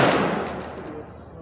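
A single loud, close rifle shot from an S&W M&P15 at an outdoor range, aimed at a 50-yard target, with a sharp crack that quickly decays.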